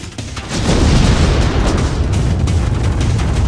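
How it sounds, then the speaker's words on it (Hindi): A Russian tank blows apart after an anti-tank guided missile strike in the Mariupol fighting, a loud, dense roaring blast that swells within half a second and rumbles on steadily, heard from a distance with no voices. "ये धमाका हुआ रूसी टैंक में, जिसे तबाह किया है यूक्रेन की सेना ने एंटी टैंक गाइडेड मिसाइल से"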